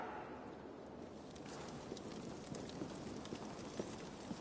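Horse hooves clip-clop steadily at a walking pace in a Viking-era action game, a fairly even, moderately loud patter over a constant ambient bed, with faint bird calls around.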